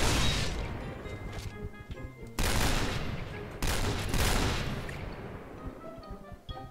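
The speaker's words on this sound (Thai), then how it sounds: "ปืนรัวปืนรัว" Rapid gunfire in the Point Blank online shooter, loud dense volleys of shots in several bursts with sharp restarts, continuing throughout with little pause.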